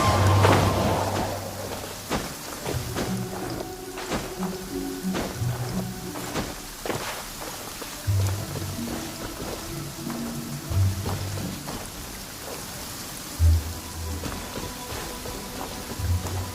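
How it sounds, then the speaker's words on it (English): Heavy downpour of rain in the video game Genshin Impact, a steady dense wash of falling rain with scattered sharper drops and low rumbles, with soft game music tones underneath and no talking. "Taking a stroll in the middle of a downpour certainly rouses the spirit."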